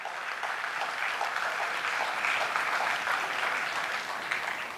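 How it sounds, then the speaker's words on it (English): Audience applause at an achievers' meet honouring top law school entrance exam results, a dense, steady clapping from a large room that holds evenly loud across the whole stretch without voices over it. "a huge round of applause for everyone sitting here"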